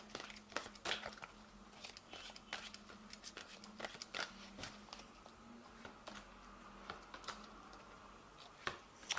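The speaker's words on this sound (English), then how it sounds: "So I'm going to just draw some cards from the Angel Tarot" Cards are drawn from an Angel Tarot deck, close and quiet: soft papery crinkles, light taps and slides in an irregular scattered rhythm, with no talking.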